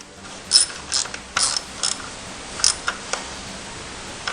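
A ratchet tightening the ignition coil screw on a 2010 Hyundai Accent with a misfire, giving several short bursts of quick metallic clicks separated by pauses, close and fairly crisp.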